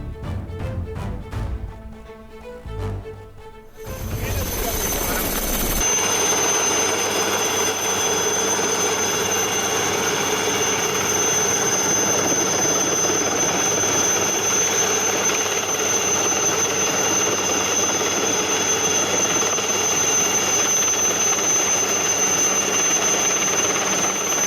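An Indian Coast Guard helicopter's loud, steady engine roar and whine during a flood rescue, with choppy rotor pulses at first, then a continuous heavy drone close by.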